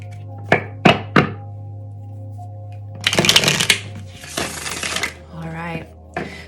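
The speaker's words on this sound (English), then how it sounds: "all the decks have been pre-shuffled, but I like to do one or two just for good luck" Tarot cards being shuffled in a few quick riffles and bursts of papery flutter, close and clear, with brief taps between.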